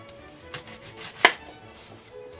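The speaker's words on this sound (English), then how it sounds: "I'm going to cut my onion up." A knife chops a sweet onion on a board, a few soft cuts ending in one sharp, close thunk, with quiet room noise around it.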